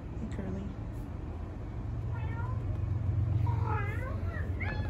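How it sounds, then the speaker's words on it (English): A cat meows several times in a row, with drawn-out rising and falling cries, one early and a cluster toward the end, heard close over a steady low rumble. "So many cat friends."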